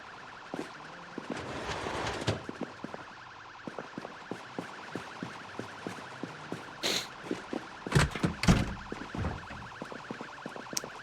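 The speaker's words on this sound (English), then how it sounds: "that alarm going off in the distance is so fucking funny. I love that it's still just blasting" A distant car alarm blares on and on in the zombie survival game Project Zomboid, a steady wailing tone under a regular ticking pulse, with a few louder bangs and thuds standing out nearby.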